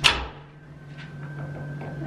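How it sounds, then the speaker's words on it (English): A room door shutting with a sharp impact at the start, followed by faint rattling and clicking of the lock against a steady background hum. "I need to lock this door."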